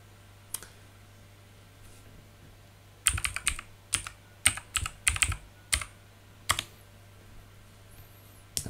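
Keystrokes on a computer keyboard enter a password in a quiet room, a few isolated taps followed by a quick irregular run of clicks, close and clear over a low steady hum.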